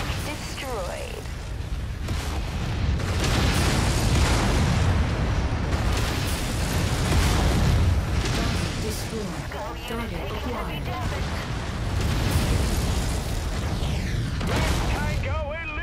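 Explosions and heavy mechanical combat roar through a MechWarrior 5 battle as an enemy mech is destroyed, dense continuous booms and rumbling with weapon fire, loud throughout, with radio-style voices talking over it.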